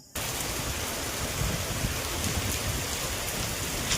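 Rain pours onto a veranda in a dense, steady hiss that starts abruptly and holds at an even level throughout, with no voices.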